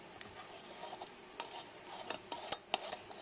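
Small clinks and light metallic scrapes as a two-piece canning lid is screwed onto a glass jar of dill pickles, with faint taps and rattles at close range and no voices.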